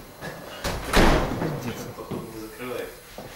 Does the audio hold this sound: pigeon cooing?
no